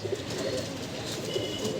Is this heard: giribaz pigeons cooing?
yes